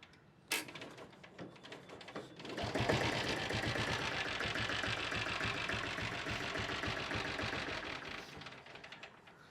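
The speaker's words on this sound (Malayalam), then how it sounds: "അടുത്തതായിട്ട് നമുക്ക് ഡീസൽ ബുള്ളറ്റ് ഒന്ന് സ്റ്റാർട്ട് ചെയ്ത് നോക്കാം." A diesel Royal Enfield Bullet motorcycle engine cranks, catches after a short start attempt, and settles into a loud, steady, rapidly thumping idle close by, with no voices.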